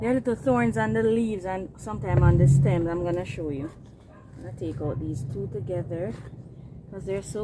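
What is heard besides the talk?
No everyday noise stands out behind the speech.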